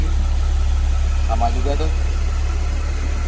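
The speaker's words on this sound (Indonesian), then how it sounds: "Nih kita muter mesin ini, AC hidup" A Mercedes W203 C240 idles with the air conditioning running, a steady low engine hum and vibration held throughout, while someone speaks briefly over it partway through.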